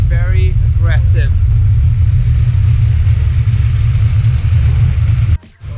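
A classic car engine with an aggressive camshaft idles roughly, a loud, lumpy low rumble running steadily throughout with brief talk near the start before the sound cuts off abruptly at the end.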